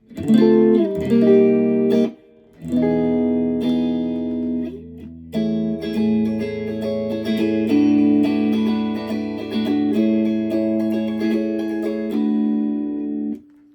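An electric guitar with middle and neck pickups out of phase, a Peavey Raptor Plus EXP, strums chords with a thin, hollow, nasal tone, ringing out loud and close across several sustained strums.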